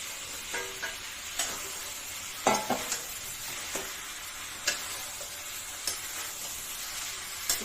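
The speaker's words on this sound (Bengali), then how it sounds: "কষানো হচ্ছে মশলাটা" Spice paste frying for a Bengali chital fish bone chorchori, a steady soft sizzle with occasional sharp clinks and scrapes of a spatula stirring in the pan, close and with no voices.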